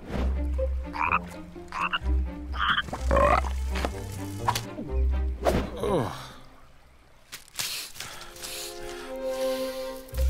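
A frog croaks several times in a children's storybook animation with a witch and a broom, the deep rhythmic croaks loud and close, followed by gasps and a watery pour near the end.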